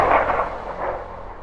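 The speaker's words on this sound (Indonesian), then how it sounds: "terdengar suara tembakan yang membuat seisi pabrik kaget dan panik" A gunshot in an Indonesian 2012 action film inside a factory: a single loud, sharp blast whose boom fades out over a second and a half, heard alone without speech.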